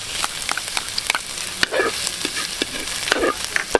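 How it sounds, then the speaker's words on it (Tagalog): Chopped garlic sizzles steadily in hot oil in a pan with intermittent scraping and stirring clicks, close and moderately loud, no voices. "Okay, golden brown na yung ating bawang."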